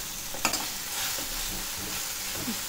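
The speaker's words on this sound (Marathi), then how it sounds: "हा पहिला मसाला चांगला तेलात भाजून व्यवस्थित तेल सुटेपर्यंत व्यवस्थित भाजून घ्यायचा" Masala roasting in oil in a pan for elephant yam curry, giving a steady close sizzle with a few soft stirring scrapes, continuous and even, no voices.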